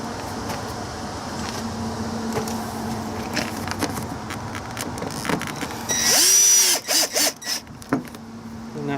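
A power drill drives screws to mount a tankless water heater in a travel trailer, with short bursts of motor whir and a louder, higher burst near the end among steady background hum.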